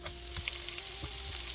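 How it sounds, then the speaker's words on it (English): Onions fry quietly in a pan for cauliflower fried rice, giving a soft, continuous sizzle with light crackles. "Onions are frying."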